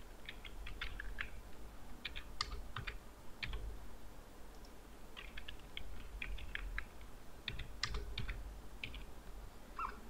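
Typing on a computer keyboard, quick clusters of light clicking keystrokes in short bursts separated by brief pauses, close and fairly quiet over faint background hum, no talk.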